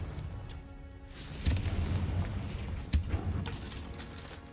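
Confringo spell explosions in the Hogwarts Legacy video game sound as two low, booming blasts over a rumbling background, each followed by a short crackle, with no talking.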